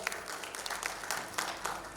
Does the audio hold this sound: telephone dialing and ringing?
no